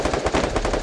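Rapid gunfire in the Free Fire mobile game, a quick burst of several loud close shots in fast succession with no voices.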